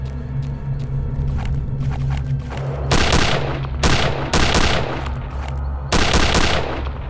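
Several sharp, loud rifle cracks from a sniper in the World War II shooter Return to Castle Wolfenstein, spaced a second or more apart over a steady low hum and background game sound.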